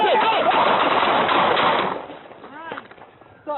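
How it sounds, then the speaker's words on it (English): Rapid burst of gunfire during a police bodycam encounter, loud and close, a dense volley over the first two seconds, then fading into shouting voices and echoing yells. "Shots fired."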